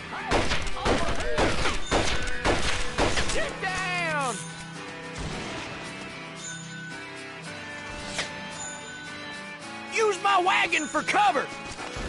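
Gunfire in the Western shooter Red Dead Revolver: a burst of loud, rapid shots early on, then quieter scattered shots and impacts under voices and background music, with more shooting near the end.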